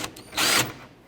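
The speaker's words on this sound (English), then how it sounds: "with a 10mm socket, I'm going to pull all of these mounting nuts off" A 10mm socket spins briefly on a grille support mounting nut of a 2009–2014 Ford F-150, a short close whirring burst of under a second, preceded by faint clicks.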